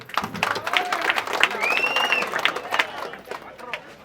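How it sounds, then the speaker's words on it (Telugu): An audience at an Indian political gathering claps in welcome, steady scattered applause under crowd murmur, with a voice talking over it and a whistle-like tone rising briefly. "ఎవరిగా చప్పట్లు కొడుతూ స్వాగతం చెప్పండి ముందు"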